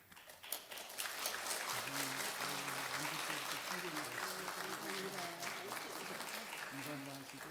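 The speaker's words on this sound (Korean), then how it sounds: "다시 한번 큰 박수 부탁드립니다" A church congregation at a Sunday service applauds, a steady sustained wash of clapping from many hands, with a voice speaking over it.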